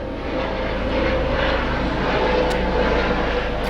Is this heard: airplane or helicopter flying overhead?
yes